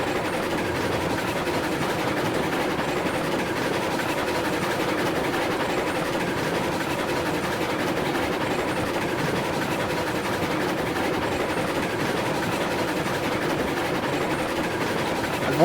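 A train in the Railroads Online video game rumbles steadily past, a continuous loud rolling drone with faint clickety-clack of the cars on the rails and no talking.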